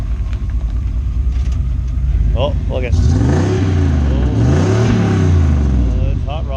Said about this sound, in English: Oh, Chevy Thunder rolling in.